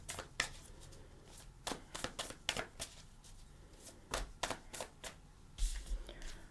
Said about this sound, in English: I'm just going to shuffle for the cards.